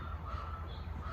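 A bird, probably a crow, gives a single short, harsh caw outdoors. The call sits against a steady, noisy background, with no voices.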